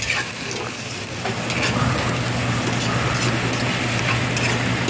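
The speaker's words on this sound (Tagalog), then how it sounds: "Halo lang natin hanggang magdikit na yung lasa ng sibuyas at bawang" Onion and garlic sizzle steadily in a pan while being stirred, a close, continuous frying hiss with light scraping throughout.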